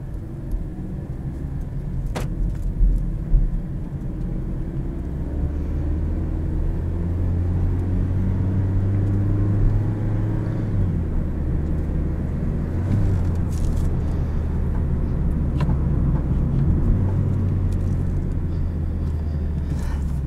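A 2017 Toyota Yaris iA compact car in sport mode driving on the road, heard from inside as a steady low engine drone and road rumble with a brief shift in pitch midway, no voices.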